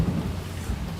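Steady rain falls outside, a dense close hiss with a low rumble beneath it, with no voices over it.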